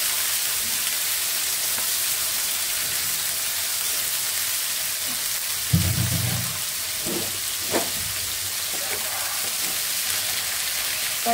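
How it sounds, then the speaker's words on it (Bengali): Bitter gourd frying in a pan on a stove, giving a steady broad sizzle with a few brief thumps and stirring knocks partway through. "চুলাই দিয়ে দিচ্ছি করলা ভাজি"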